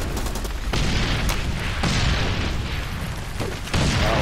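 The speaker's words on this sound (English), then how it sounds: "All these grenades go off" Grenade blasts in the Far Cry 2 shooter on Xbox One, several heavy booming detonations going off in quick succession over a dense, noisy battle bed, loud and close with no talk.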